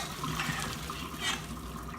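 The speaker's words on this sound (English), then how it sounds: "But here we go, strain the noodles." Cooked noodles for mac and cheese poured into a strainer, steady splashing and draining water running throughout, close by and fairly soft, with no talk.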